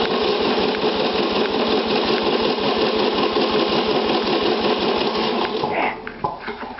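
Small two-stroke engine fitted with new reed valves and a faulty choke, cranked repeatedly in a rapid, steady rattling pulse that carries on for several seconds before it drops off near the end without catching.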